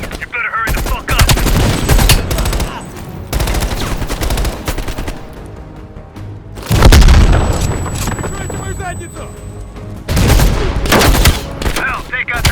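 Automatic machine gun fire in Call of Duty: Black Ops Cold War, loud rapid bursts in several long volleys with short gaps between them, mixed with battle noise.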